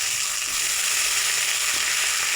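Onion and potato fry together in hot oil for a fish curry. There is a continuous bright, hissing sizzle, close and steady, with no speech.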